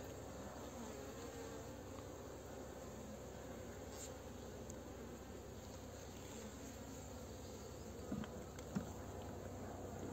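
Honeybees humming around a heavy beehive ready for wintering, a soft continuous drone of many insects at close range, steady and fairly quiet, with a couple of faint knocks near the end.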